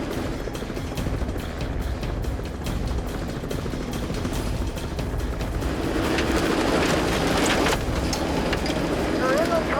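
Constant loud rotor and engine roar of a helicopter overhead carrying a 700-pound slung load in the Alaska wilderness, with wind buffeting and a voice speaking briefly beneath the noise.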